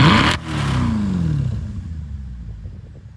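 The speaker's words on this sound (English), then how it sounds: "Carson, give it a quick rev." Mercedes C63 AMG V8 with a Eurocharged tune revs sharply once, a loud, brief snarl that drops away into a lingering low exhaust burble.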